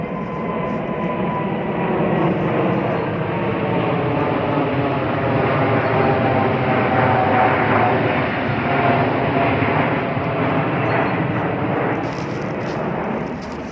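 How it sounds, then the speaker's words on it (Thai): A Burmese airplane passes overhead in rural Thailand near a forest, its broad steady roar staying loud and constant for the whole stretch, with no one speaking. "เครื่องบินพม่านะคะ"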